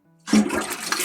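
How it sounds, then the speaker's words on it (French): A toilet flushes close by, a sudden rushing gush of water that starts abruptly and keeps churning loudly to the end. "on va pouvoir tester directement en appuyant sur la chasse d'eau"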